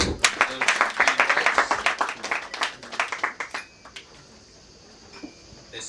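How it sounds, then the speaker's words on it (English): A small audience at a Rotary Club installation ceremony claps in a loose, fairly close burst of distinct hand claps that thins out and stops after about four seconds, leaving faint room noise. "Can we give him a clap?"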